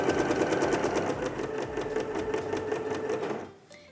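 A sewing machine stitches quilt pieces for a bear claw quilt, a steady rapid whirring rhythm of needle strokes running close and continuous before winding down to a stop near the end.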